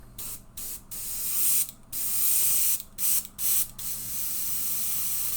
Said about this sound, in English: it is spraying